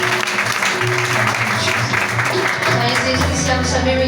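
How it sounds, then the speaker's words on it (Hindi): A congregation at a Sunday Christian prayer service claps loudly, a dense continuous wash of applause filling the hall for the whole moment, with faint music or voices beneath. "आइए जोरदार तालियां बजाएं।"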